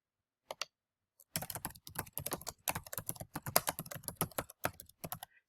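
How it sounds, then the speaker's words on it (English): Rapid, uneven keystrokes on a computer keyboard, close and fairly quiet, come in short bursts after a couple of isolated taps, with no talking over them. "I'm going to type this part"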